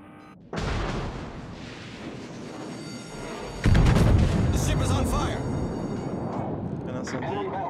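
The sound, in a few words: naval shell gunfire in the video game World of Warships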